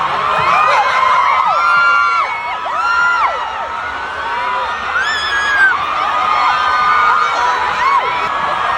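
Fans screaming and cheering at a set during Aurora Music Festival 2024, a dense, sustained wall of high-pitched shrieks and whoops from a large crowd, loud and close throughout with swelling peaks.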